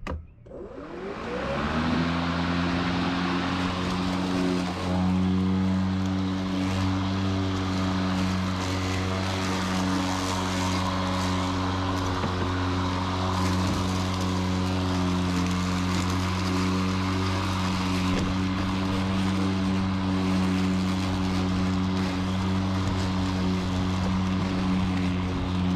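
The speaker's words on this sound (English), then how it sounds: "I'm gonna go ahead and start it up and start mowing" EGO battery-powered lawnmower spinning up from quiet and then running steadily while mowing grass, a loud continuous whirring hum with a fixed pitch, close by, with no voices.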